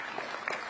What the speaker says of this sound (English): a big round of applause, please, for Lord Young